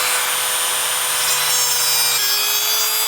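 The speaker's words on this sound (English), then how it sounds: "I'm just going to grind in a ring right around these threads here" A rotary tool grinds a groove in a ring around the stuck screw threads of a Mistral Superlight windsurf board, giving a steady, loud, high-pitched abrasive whine that holds for several seconds and dips slightly in pitch partway through.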